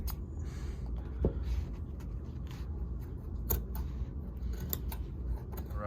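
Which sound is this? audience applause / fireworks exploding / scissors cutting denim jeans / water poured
scissors cutting denim jeans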